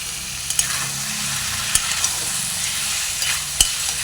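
Bombay duck (lote fish), about 500 grams, frying in a pan, a loud, dense, continuous sizzle close by, with a few sharp spatters and light clicks of stirring.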